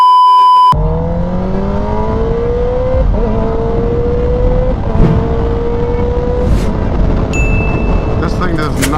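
A Kawasaki Ninja ZX10R KRT Edition sport bike engine revs hard and climbs through several gear changes, a loud rising whine that drops and climbs again, with electronic beeps at the start and end.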